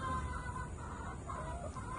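Hens kept near a shoreline in winter cluck softly in a low, continuous murmur with a few higher calls rising over it, faint and somewhat distant, with no talking.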